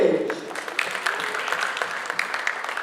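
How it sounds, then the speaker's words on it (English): Applause at a press conference for the Karachi Cobras team in Pakistan, a moderate scattered clapping from the audience with a voice heard faintly at the start. "Let's give a big round of applause for the Karachi Cobras"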